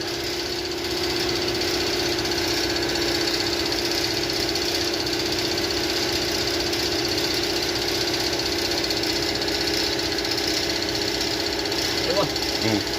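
A Cummins 2.8 diesel engine with low power runs steadily at idle, a constant close mechanical rumble with a faint rattle, and a brief knock near the end.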